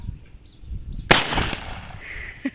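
A single loud, sharp bang from a bird-scaring noise device fired outdoors in a rice field, preceded by faint chirps and followed by a ringing, fading tail.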